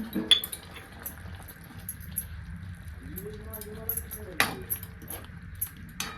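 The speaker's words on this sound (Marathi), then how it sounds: "छोट्या एका वाटीनं मी शेंगाचं कूट टाकले ते पण छान असं मिक्स करून घेते" Bitter gourd and crushed peanuts are stirred in a pan, with sharp metallic clinks and scrapes of a utensil against the pan coming in sparse bursts over a quiet room tone.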